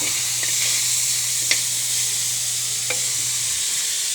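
Mung beans sautéing in a pan for ginisang monggo with squash, banana blossom and malunggay: a steady broadband sizzle holds throughout, broken by a couple of faint clicks from stirring, with a low hum underneath and no talk.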